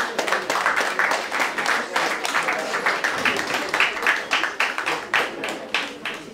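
Audience applause at a birthday gathering, dense, rapid clapping from a group of people, continuous and fairly close, rising and falling slightly throughout.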